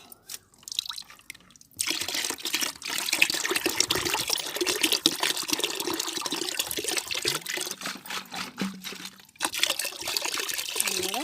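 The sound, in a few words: pouring remaining water into a bucket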